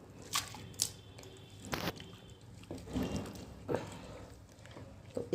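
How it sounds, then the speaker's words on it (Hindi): Shredded potatoes are handled and rinsed in a bowl of water, giving soft wet squishes and sloshes at irregular intervals, fairly quiet and close, with no speech. "ऐसे एक से दूसरी बार पानी में हम डाल करके इन्हें धो रहे हैं।"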